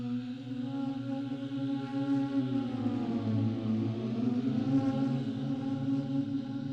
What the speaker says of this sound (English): it's a pair of duduk, one running on spectral engine, and the other is running on granular engine